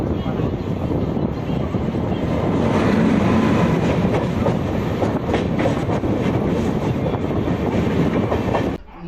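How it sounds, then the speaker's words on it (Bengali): An express train from Balurghat to Sealdah rolls into Farakka Junction, a loud continuous rumble with rhythmic wheel clatter that holds steady close by before dropping off at the end. "এই মুহূর্তে আমাদের ট্রেন এসে পৌঁছালো নিয়ে ফারাক্কা জাংশন"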